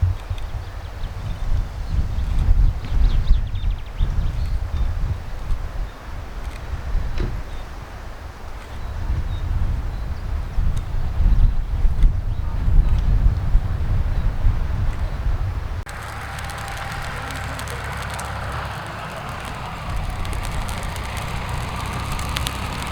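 Wind gusts buffet the microphone at a mountain plateau campsite on Ercuva Yaylası, a loud low rumble for most of the stretch that drops to a steadier, thinner breeze toward the end.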